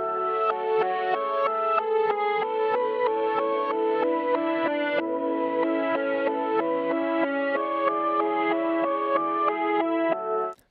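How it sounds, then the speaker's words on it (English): Reversed keyboard sample, slowed to 93.5 BPM and pitched down with it, plays as a steady wash of sustained, swelling chords and notes that continue evenly throughout before cutting off at the very end. "what I did was reversing it, and I took the tempo down to"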